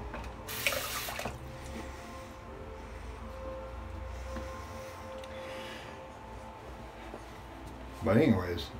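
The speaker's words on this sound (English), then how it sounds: "let me go ahead and let me rinse this off" A tap runs into a sink while a safety razor is rinsed under it, giving a steady, faint splashing stream close by, ending with a short louder burst near the end.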